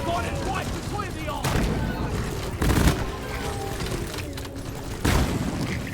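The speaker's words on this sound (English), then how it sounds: "The explosions." Explosions and bursts of gunfire from the video game Deep Rock Galactic, with several heavy booms and rattling shots piling up in a dense, noisy firefight, while faint voices talk.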